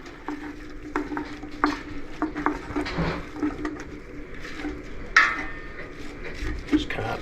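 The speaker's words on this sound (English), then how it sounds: "Just scrape all these bits, the sausage and bacon." Sausage, bacon and onions are scraped and stirred in a sizzling pan for Irish coddle. A spoon makes repeated scraping strokes and clatters over a steady frying hiss, with occasional speech.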